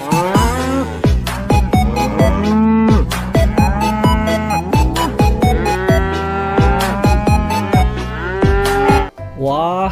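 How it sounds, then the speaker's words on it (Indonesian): A black-and-white mother cow moos again and again, with loud, drawn-out, tonal lowing calls that overlap and continue steadily with no talking. "ada induk sapi lucu teman-teman,"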